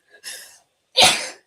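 A single person sneezes indoors, close and clear: a brief sharp intake of breath followed after a short pause by the explosive burst of the sneeze.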